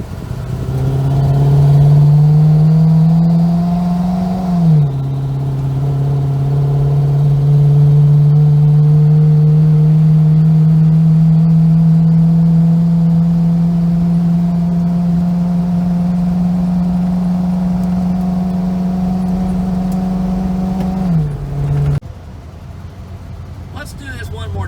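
A 1971-1976 GM clamshell station wagon accelerating hard as it merges onto an interstate, its engine droning loud and steady, pitch climbing slowly under sustained throttle, then dropping abruptly as the revs fall away.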